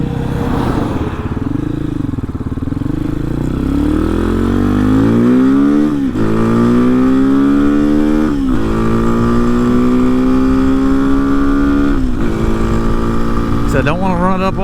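A Hawk 250 motorcycle with a swapped Loncin RE250 six-speed engine runs loud and close, revving up through the rev range in several rising pulls with brief drops between shifts, under steady wind rush.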